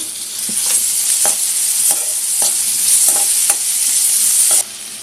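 Onion fries in hot oil with a bright, continuous sizzle. It is stirred with regular scraping clacks about twice a second, close and loud, and no one speaks.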